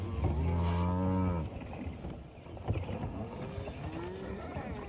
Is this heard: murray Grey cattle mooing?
yes